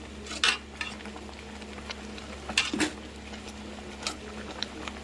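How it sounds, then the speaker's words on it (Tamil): Cooked wild greens are stirred in a pot with a ladle handle, heard as a few soft scraping and knocking strokes spaced out over a low, quiet background. "இப்போ வந்து கரண்டி காம்பால் கீரையை இப்படி கிண்டி விடணும்"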